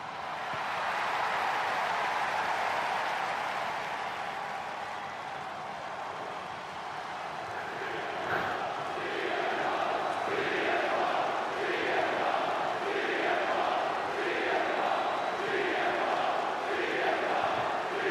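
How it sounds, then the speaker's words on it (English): An arena crowd in the WWE 2K25 wrestling video game fills the space with a broad roar, then settles into a rhythmic, repeated chant of CM Punk's name, pulsing in regular beats at a steady moderate level. "You can see crowd is chanting CM Punk"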